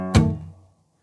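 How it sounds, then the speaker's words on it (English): A single acoustic guitar bass note plucked and quickly followed by a down strum, part of a rhythm pattern, ringing close and clear before fading out within about half a second. "So you pluck your bass note, and then we're going to do a down chunk."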